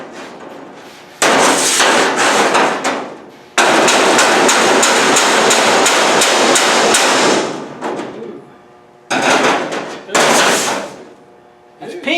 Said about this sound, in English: You want to do it with a hammer?